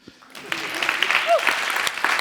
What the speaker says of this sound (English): You clap at fucking anything